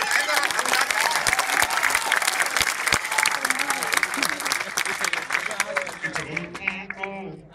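University students clap at a live talk, a thick burst of crowd applause that holds steady and then thins out toward the end as a few voices emerge.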